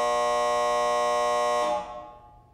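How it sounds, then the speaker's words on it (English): A loud, steady electronic buzzer drones for about a second and a half at the close of a podcast segment, then cuts off and leaves a fading ringing tail in a quiet room. "so that buzzer means that is all the time we have for the final segment"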